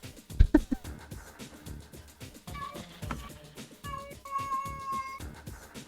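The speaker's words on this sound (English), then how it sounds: "Is there a cat crying in the background, Beth?" Amid game audio and music from a Gran Turismo stream, a cat cries faintly in the background with drawn-out wavering tones toward the end, low in the mix.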